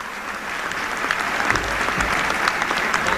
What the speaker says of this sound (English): Please give all of our award winners a well-deserved round of applause.